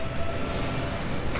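A train in the video game Batman: Arkham City rumbles past in a short, steady, loud roar with a faint clatter, no speech over it.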